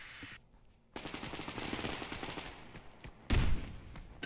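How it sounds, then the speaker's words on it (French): Automatic weapon fire rattles in the online shooter game Survarium, a steady rapid burst of shots ending in a louder, heavier blast near the end. "attention, ça tire"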